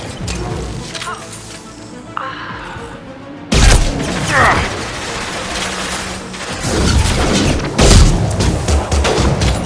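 Gunfire from Mass Effect 2 during a Krogan recruitment mission, with heavy booming shots and crashing impacts that turn louder and denser in the second half, alongside game voices.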